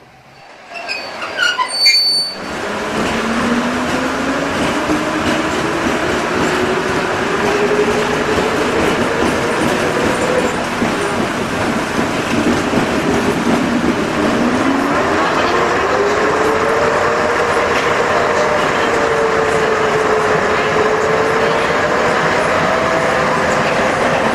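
A British Rail Class 101 diesel multiple unit runs between Hope and New Mills Central. After a brief clatter, a loud, continuous engine drone sets in, its pitch climbing and shifting as the unit gathers speed, over rolling wheel noise.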